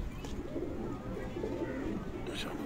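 Pigeons coo in a rooftop loft, a low, steady murmur of soft calls continuing throughout, with voices and faint background noise mixed in.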